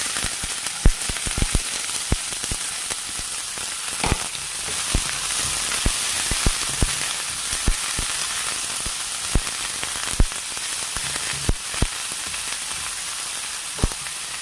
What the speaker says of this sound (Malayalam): പച്ചമുളക് ഒന്ന് പതുക്കെ ഇളക്കാം ഇനി അടുത്ത നമുക്ക് സവോള ഇട്ട് കൊടുക്കാം